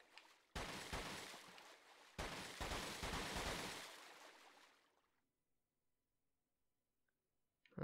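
Gunfire in Resident Evil 4 aimed at fish: loud, close, rapid shots fire in two dense volleys, then fade to near silence with a faint click at the end.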